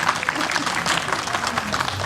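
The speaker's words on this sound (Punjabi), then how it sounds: "ਸਾਰੇ ਤਾੜੀਆਂ ਮਾਰੇ" A crowd claps steadily throughout at a free eye camp at a hospital near Jalandhar, dense applause with a murmur of voices mixed in.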